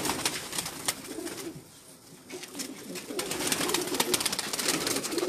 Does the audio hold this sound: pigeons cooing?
yes